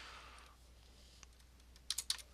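A computer keyboard gives a few quick, faint keystroke clicks in a quiet room, mostly bunched together near the end.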